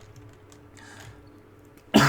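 A person gives one loud, sharp cough with throat clearing near the end, close to the mic after near silence.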